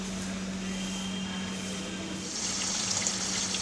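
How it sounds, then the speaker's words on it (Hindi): Water pours steadily into a treatment bath used to soften plant fibres, a continuous rushing wash with a low, even hum underneath that swells slightly toward the end. "बाथ को पानी और रेशों को 1/15 के अनुपात से भर दिया जाता है"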